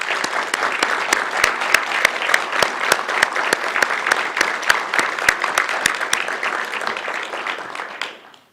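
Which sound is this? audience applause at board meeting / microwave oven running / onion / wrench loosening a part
audience applause at board meeting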